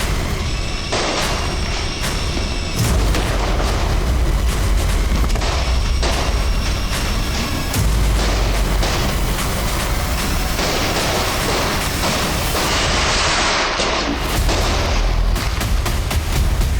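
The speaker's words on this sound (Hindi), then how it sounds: "मैं जानता था कि दिवाली के शाम में पटाखों के बीच" A dense, loud barrage of sharp bangs and booming blasts crackles nonstop, gunfire mixed into heavy Diwali firecracker explosions in the evening, with no talking.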